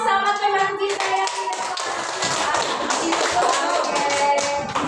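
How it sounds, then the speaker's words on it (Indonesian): Classroom applause for a classmate, a dense stretch of many hands clapping steadily throughout, close and fairly loud, with a voice speaking over the start. "Kita kasih aplaus sama teman kita yang"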